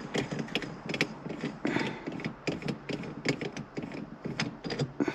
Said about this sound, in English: Here, let's take this knob off first.